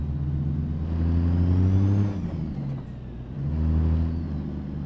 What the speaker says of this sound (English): The motor sounds decent.